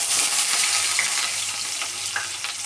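Onions sizzling in hot oil with mustard seeds, cumin and dried red chilies for a Tamil raw banana (valakka) curry, a steady close frying hiss with faint stirring scrapes throughout.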